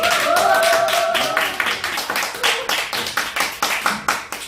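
An audience claps at a Gunsan city hall press conference for a city council candidate, dense applause at first that thins into sparser, separate hand claps, loud and close, with no talk over it.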